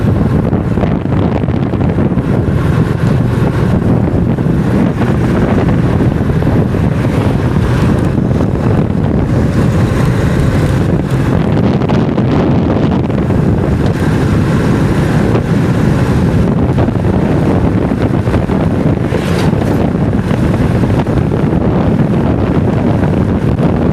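Steady, loud wind roar buffets the microphone throughout a boat ride, with engine and water rush blended underneath and no talk.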